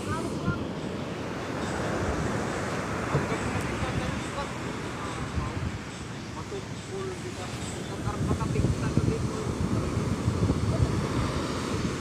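Sea waves surging around a small boat on a crossing, a continuous rough wash of water and wind buffeting the microphone, growing louder and choppier toward the end.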